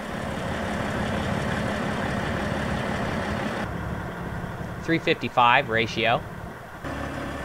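A 2002 Peterbilt 379 extended-hood truck idles with a steady low diesel rumble, close and continuous, while someone talks over the latter part.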